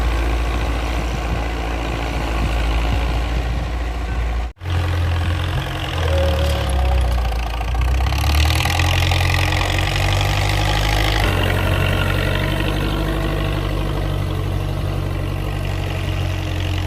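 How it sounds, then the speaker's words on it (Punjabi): A farm tractor engine running close by, a deep continuous chugging rumble that briefly cuts out and then shifts pitch as it revs and settles. "ਮਾੜੀ ਜੀ ਆਵਾਜ਼ ਸੁਣੋ ਟਰੈਕਟਰ ਦੀ ਆਵਾਜ਼"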